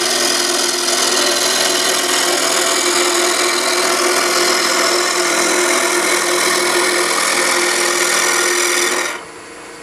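A wood lathe spins a napkin ring blank as a gouge rides the bevel, a loud, steady whirring hum with a scraping edge that cuts off abruptly near the end.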